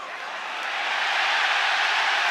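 Roar of a packed UFC 294 arena crowd during the Volkanovski vs Makhachev fight, a broad continuous wash of cheering that swells slightly and holds steady, with no voices clearly standing out.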